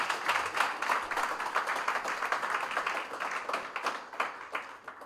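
Steady applause from a crowd at an opening Mass in Chad, many hands clapping together in a continuous, moderately distant patter that holds throughout.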